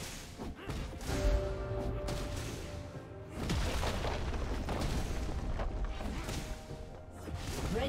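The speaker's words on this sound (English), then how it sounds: "Red team's turret has been destroyed." Turret destroyed in League of Legends, heavy booming crashes and impacts from in-game combat, a sharp hit near the start followed by a denser stretch of rumbling blasts and clatter.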